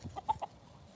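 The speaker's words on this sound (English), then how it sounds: "These are some of my oldest chickens." A few short, clipped clucks from chickens and a rooster, close and fairly quiet, three quick calls in under a second.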